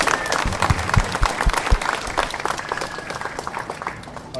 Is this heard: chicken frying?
no